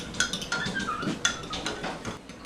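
A fork clinks and scrapes rapidly against a bowl while whisking for fruit cake batter, a bright, irregular tapping rhythm up close with no talking.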